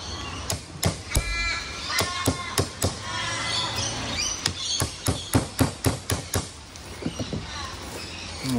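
A chisel cuts into a hempcrete panel with a series of sharp, close knocks and scraping strikes, irregular at first and then coming in quicker bursts.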